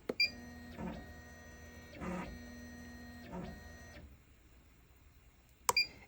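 A Smartstitch embroidery machine traces the outline of a hoop frame set up for Hooptech and Mighty Hoops, with several short motor whirs and mechanical steps, soft hum between moves and a sharp beep near the end.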